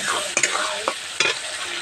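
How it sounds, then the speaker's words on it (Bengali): Chicken curry being stirred in a pan after whisked yogurt is added, with a continuous frying sizzle and a few distinct scraping strokes of the spoon against the pan, close up. "ভালোভাবে আমরা নাড়াচাড়া দিয়ে দেবো।"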